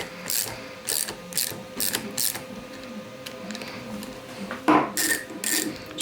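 Bolts being tightened into plastic electric skateboard wheel hubs with a ratcheting tool, giving quick bursts of clicking separated by short pauses. Close and fairly faint, with no talking.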